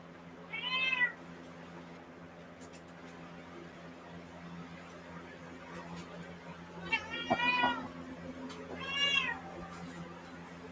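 Three cats meowing indoors, with short clear meows at the start and two more near the end over a low steady background hum, with quiet voices present.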